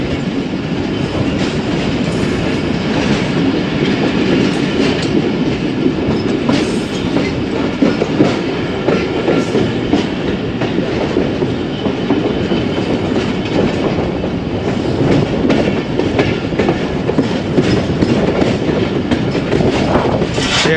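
The 122DN Ravi Express rolls along the rails in a steady, loud, continuous roar, with rhythmic clickety-clack from the wheels over joints and no speech throughout.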